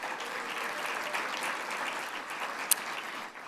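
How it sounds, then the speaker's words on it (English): A college convocation audience applauds in a dense, continuous wash of clapping that holds steady throughout, with one sharper clap standing out near the end. "So let's give that a round of applause as well."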